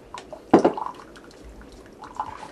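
Water is poured into a home drip coffee maker for two cups, a short close splash and trickle that peaks sharply then tapers into light dripping, with no talk.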